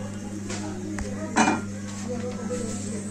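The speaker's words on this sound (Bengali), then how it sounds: "কড়াইতে আমি নারকলটাকে দিয়ে দিচ্ছি" Grated coconut tipped into a hot kadai, heard as a few metal clinks and one sharper scrape of a utensil against the wok over a faint background hum.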